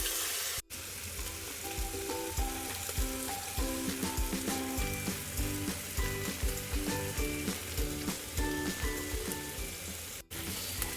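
Meat sizzling and frying in a kazan over a campfire for plov, a loud continuous crackle with rhythmic stirring scrapes and clanks throughout, no voices.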